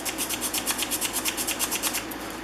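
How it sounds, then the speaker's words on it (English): A sanding stick rubs back and forth on a hand plane frog in quick, even strokes. The rasping is close and steady and goes on with no talking. "You can hold your sanding stick on its edge."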